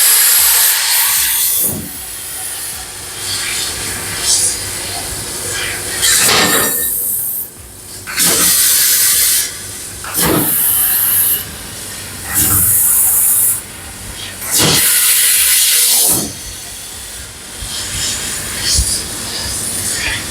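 A 1 kilowatt laser cutting machine runs in a workshop, giving a steady hissing, spray-like rush broken by repeated short bursts and brief pauses as it cuts, loud and close.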